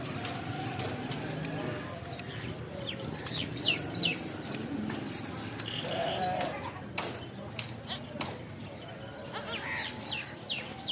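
Goats bleat now and then, fairly near, against a steady outdoor background with people talking and other farm animals around.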